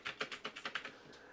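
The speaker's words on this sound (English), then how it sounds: "a mechanical keyboard" Keys on a mechanical keyboard clack in a quick run of about eight distinct, evenly spaced strokes, close and clear, then stop, leaving quiet room tone.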